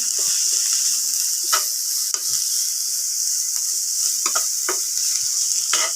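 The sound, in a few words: stirring bamboo shoots in a frying pan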